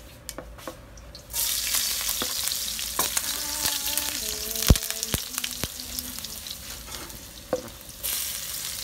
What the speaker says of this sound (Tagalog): Nagluluto ko nito, ginigisa ko.